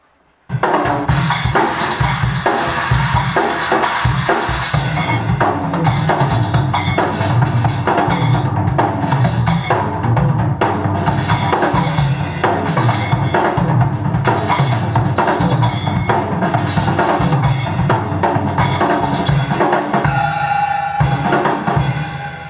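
A full drum groove with layered percussion hits, steady and driving, playing loudly and continuously with no voices.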